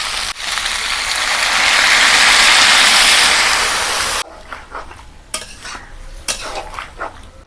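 Milk pours into a pot of Bengali shukto vegetables with a broad rushing splash lasting several seconds. Then come close clattering spoon scrapes and stirring knocks against the pot.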